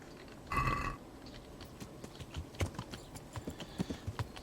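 Horse hooves clip-clop in a steady walking rhythm in the video game Kingdom Come: Deliverance, with a brief louder burst near the start, close and moderately loud.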